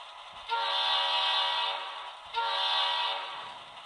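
An HO scale Western Pacific SW1500 model locomotive with DCC sound sounds two long, steady blasts of its Nathan M5-style horn, separated by a short gap, fairly loud with no speech.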